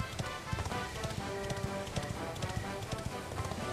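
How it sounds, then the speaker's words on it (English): Horse hooves clip-clop in a steady trotting rhythm while riding in the video game Dragon Quest XI, close and fairly loud over a dense bed of game music and ambience, with no talk. "the horse's name is not Big Boy, Baby Boy."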